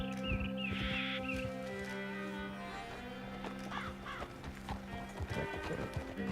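Horse hooves clip-clop at a steady riding pace in the Red Dead Redemption 2 video game, with a brief neigh and soft ambient music underneath, moderately quiet.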